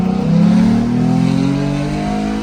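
Ford F150 pickup with a full custom exhaust revving loudly and close, one sustained throaty engine note that rises and holds, with no one talking.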